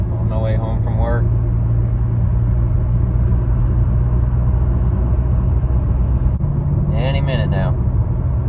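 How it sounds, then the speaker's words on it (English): A Toyota Camry nearing 300,000 miles drives along a road, a steady close engine drone and tire rumble filling the cabin throughout while someone speaks briefly at the start and again near the end. "Just driving along here on my way home from work"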